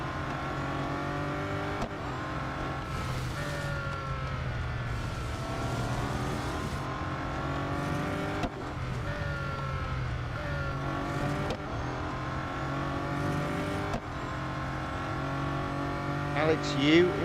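Race car engines in the Real Racing 3 mobile racing game rev and accelerate continuously, with rising and falling gear-change whines layered over a loud steady drone, while someone talks over the racing throughout.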